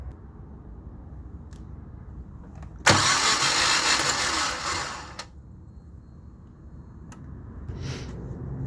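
An engine is turned over for a cam and valve check, starting with a sudden loud whir that holds for about two seconds and then fades. A quiet background hum runs before and after, with a few brief clicks and no talking.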